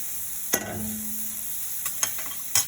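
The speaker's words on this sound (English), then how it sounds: "Alright, so my onions have been sauteed." Onions sauté in a pan without any oil, giving a steady, soft sizzle with a few sharp spatula taps and scrapes. It is heard close up, with no one speaking.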